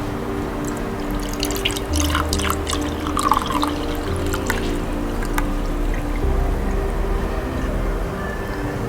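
Vinegar poured from a container into a cup for a penny-cleaning experiment, a steady close liquid trickle with scattered splashes and drips running the whole time over a low background hum.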